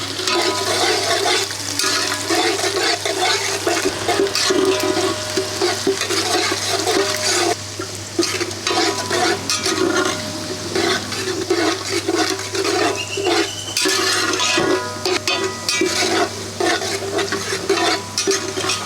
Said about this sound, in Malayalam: നമ്മൾ റെഡിയാക്കി വെച്ചിരിക്കുന്ന വെളുത്തുള്ളി ആഡ് ചെയ്ത് കൊടുക്കുക.